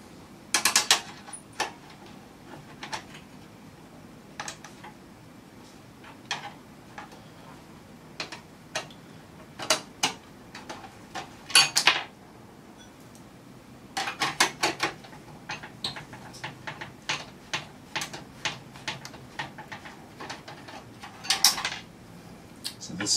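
Clicks and mechanical snaps of a GT710 graphics card with four HDMI outputs being seated into a PCIe x1 slot in a Ryzen 5600G PC build. Scattered sharp clicks and clusters of plastic-and-metal ticks come close up, with quiet pauses between them.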